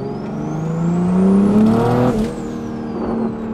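A Toyota A90 Supra with a stock B58 engine and big turbo, running its first E85 tune, revs in a short pull from 2,500 to 4,000 RPM, the engine note rising steadily and loud up close before easing off.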